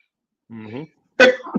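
A sneeze during a jazz radio interview: a short voiced throat sound first, then after a brief pause a sharp, loud, explosive burst with a quick second catch, heard close and alone.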